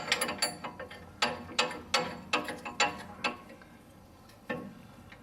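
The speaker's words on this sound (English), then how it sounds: "get the ratchet on the other one, through the back as well." Ratchet working a bolt on a Land Rover Defender suspension arm, sounding as short bursts of rapid metallic clicks in several strokes with brief pauses, close and fairly quiet, with no talking.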